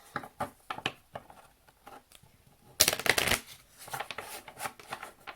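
Egyptian oracle cards being shuffled by hand, a run of soft riffling flicks with a denser, louder burst of card slaps midway, close and clear with no talking.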